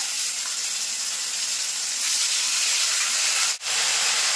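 Ground coriander and cumin paste with five-spice seasoning and bay leaf sizzles in hot oil, a loud, continuous close-up hiss with one brief dip near the end and no talking.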